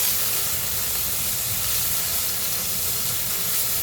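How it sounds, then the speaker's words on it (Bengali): Fish frying in a pan while preparing a taro curry, giving a steady, even hiss and sizzle of hot oil that continues unbroken at close range with no talk. "মাছ ভেজে নিব"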